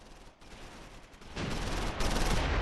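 Distant, muffled 12-centimeter mortar fire in the Close Combat V war game builds into a low rumbling wash of impacts, swelling in two steps and staying faint and far off.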